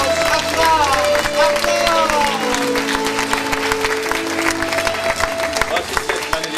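A studio audience claps and cheers loudly during a German television comedy episode, while voices call out over the dense, sustained applause.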